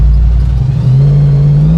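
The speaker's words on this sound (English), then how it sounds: "You can feel the vibration from this heavy engine" A supercharged 1972 Dodge Charger RTR of about 1400 horsepower accelerates hard, its heavy engine note very loud and close, rising steadily in pitch over a deep rumble.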